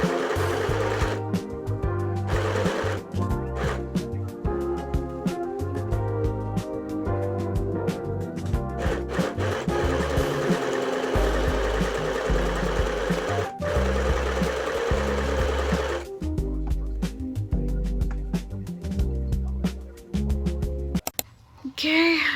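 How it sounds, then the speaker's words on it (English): A sewing machine stitches a star-shaped floor pillow in repeated loud, rhythmic bursts of rapid needle chatter separated by short pauses, with music playing underneath. "And I'm about to start sewing."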